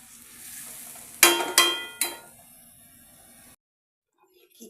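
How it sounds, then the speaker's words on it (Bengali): Lentils for khichuri fry in a pan with cabbage, carrot and onion, three loud sizzling bursts in quick succession that fade, followed by an abrupt drop to near silence. "আগে ডালটা একটুখানি ভেজে নিই"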